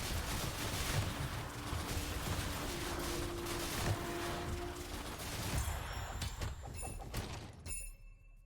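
Dense, continuous bursts of explosions and gunfire from Torchlight Infinite, loud and cluttered, with brief mechanical tones, thinning out toward the end.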